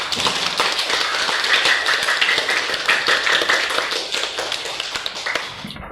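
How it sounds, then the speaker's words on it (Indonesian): A classroom group claps steadily for several seconds, dense and fairly loud, fading slightly toward the end. "Tepuk tangan buat semuanya."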